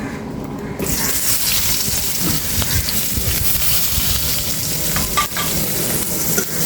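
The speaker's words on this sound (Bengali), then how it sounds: "এখন হচ্ছে কাঁচামরিচ আর পেঁয়াজ দিয়ে দিব" A loud burst of sizzling as onion and green chili hit hot oil, then continuous close crackling and hissing with stirring scrapes.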